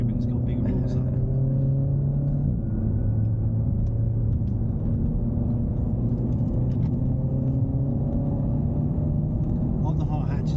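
A Renault Megane RS Trophy hot hatch on a race track, its exhaust bubbling and crackling over a constant low engine drone heard from inside the car.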